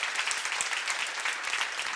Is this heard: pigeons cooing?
no